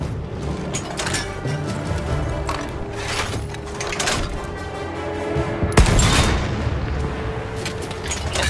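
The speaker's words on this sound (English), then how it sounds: "Trying out this anti-tank gun." An anti-tank gun fires in the video game Battlefield 1 amid a battlefield full of gunfire. Heavy booms and cracks repeat over a constant roar of distant combat, with one especially loud blast near the end.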